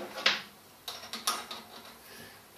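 A vice stop is screwed into place on a machine vice, giving a few short, faint metallic clicks and ratcheting scrapes spaced out over a couple of seconds.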